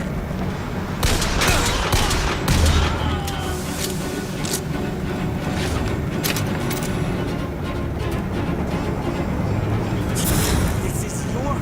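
Gunfire in the Bioshock Infinite video game, repeated sharp shots scattered throughout amid busy combat noise and voices.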